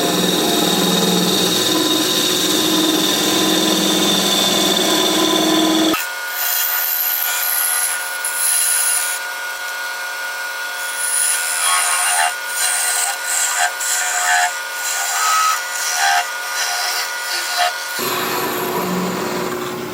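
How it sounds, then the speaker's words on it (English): A wood lathe spins at about 1200 RPM while a parting tool cuts the workpiece, making a loud, steady, close-up scraping and hissing with a sharp high whine, with no voices. "Got the lathe turning about 1200 RPM."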